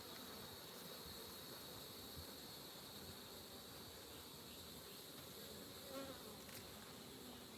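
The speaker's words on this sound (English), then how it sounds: "just see tons of bees hanging out and flying around" Honeybees swarm around a hive being built out with wax during an inspection, their dense, steady buzzing close and continuous throughout, with no talking.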